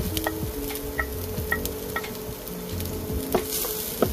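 Sliced onion frying in a small amount of cooking oil in a pan, a steady close sizzle with occasional light taps and scrapes of a utensil against the pan, no talking.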